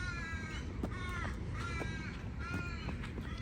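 Crows caw in a park, giving several harsh, rasping calls spread across the moment over a constant low background hum.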